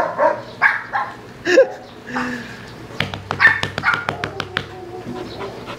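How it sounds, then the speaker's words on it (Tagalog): A dog barks and yips in short bursts, with a person talking and calling out nearby between the barks. "Napakatalinong aso talaga, no?"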